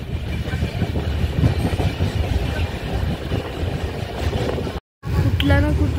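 A passenger train running at speed, a loud continuous rumble with rhythmic rail clatter heard from inside, briefly cut near the end before resuming.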